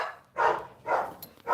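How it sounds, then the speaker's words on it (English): Several neighborhood dogs barking in three loud, separate bursts, each about a third of a second long, with short quiet gaps between them, heard from indoors. "I can hear all the dogs in the neighborhood."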